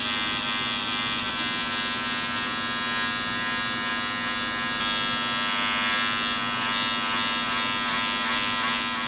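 Electric hair clippers with the guard lever open buzz steadily and closely through a fade haircut, a constant high whine with slight changes in tone as they cut, alone without talk.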